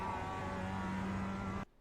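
Mazda Miata race car engine in the iRacing game at Tsukuba, a steady loud engine drone with a constant whine, running at high revs and then cutting off abruptly near the end.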